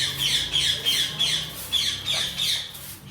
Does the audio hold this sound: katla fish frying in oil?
no